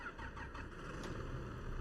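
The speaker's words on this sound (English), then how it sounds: "Can everybody hear the tractor cranking up there?" A tractor engine cranks and runs in Farming Simulator 22, a steady low rumble with a rough, churning texture at a moderate, even level throughout, with no talking over it.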